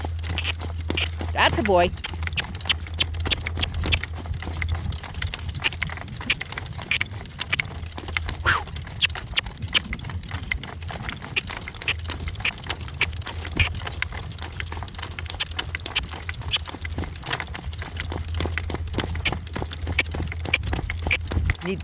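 A barefoot, unshod horse trots with quick, regular hoof clip-clops close by, steady throughout, while a person speaks briefly over the footfalls.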